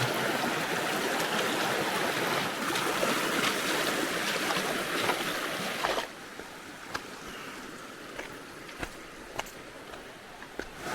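A waterfall with rushing rapids along a wet hiking route, a dense, loud roar of churning water that drops to a softer, steady flow partway through, with occasional sharp splashes.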